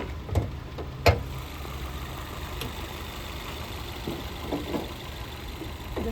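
A 2023 Honda Elevate's engine idling with the bonnet open, a steady low hum broken by a couple of sharp clicks near the start.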